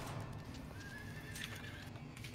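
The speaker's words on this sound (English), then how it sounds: "Is that a horse sound effect?" A horse neighs in the Half-Life video game, a faint, drawn-out whinny sitting low in a dense wash of game noise and rumble.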